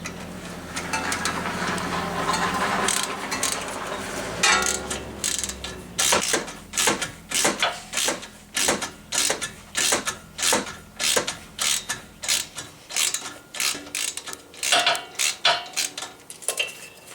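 A ratchet works a tight 10 mm fastener on a Honda Civic front strut, first a blurred whir and then a long run of sharp, evenly spaced clicks, close and clear with no talk.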